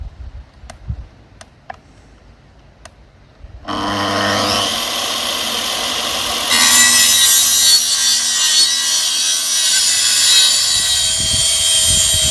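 OSB floor panels being cut with a saw for a wooden floor slab: a few light taps first, then a loud continuous cutting whine that starts abruptly and intensifies midway, running steadily to the end with no talking.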